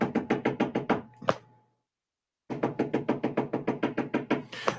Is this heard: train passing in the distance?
no